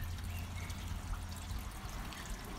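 Steady trickling pour of pond water running over a piece of scrap liner into a pond skimmer's narrow shallow gap, continuous and close with no talk.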